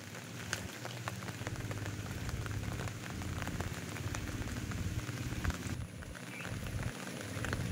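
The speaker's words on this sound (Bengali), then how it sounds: "এত বৃষ্টি হয়ে গেছে" Heavy monsoon rain falling outdoors in a village at the edge of the Sundarbans. The pattering downpour is dense and constant, close around the listener, with no talk.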